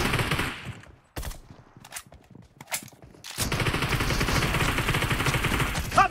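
Rapid automatic gunfire in a team deathmatch video game, loud close bursts of rattling shots with brief gaps, then a long sustained stream of fire.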